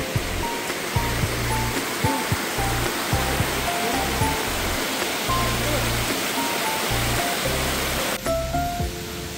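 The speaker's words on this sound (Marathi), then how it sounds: "पाण्याचा प्रवाह पाहायला मिळतोय" A forest stream along a trek route runs in a constant broadband rush of flowing water, steady and fairly close. Low rumbling and handling bumps sit underneath, and there is no clear talk.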